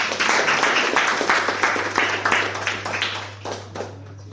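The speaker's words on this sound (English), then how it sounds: "Let's give a round of applause." Applause from a modest speakers-forum audience: a burst of individual claps, fairly close and distinct, gradually thinning and fading out over about four seconds, with a steady low electrical hum underneath.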